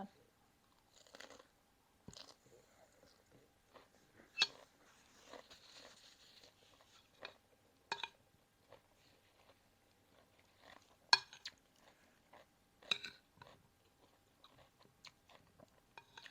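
Close, crunchy chewing of dried frogs, with bites and crunches scattered irregularly across the stretch and a few louder crisp snaps, no talk over it.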